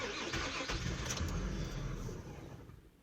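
An Infiniti I35 engine cranks and catches, then runs rough and uneven at a loud, close idle that fades slightly toward the end, with no talk over it.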